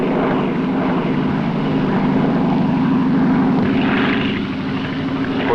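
A propeller airplane in 1956 carrying field laboratory equipment to an offshore drilling rig drones steadily in flight, a loud, continuous engine and airscrew roar with a low throbbing pulse.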